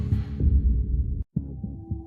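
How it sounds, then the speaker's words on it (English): Heartbeat sound effect in a horror short film, deep low thumping pulses in a steady rhythm, close and prominent, with a brief drop to silence midway. "her heart pounding in her chest"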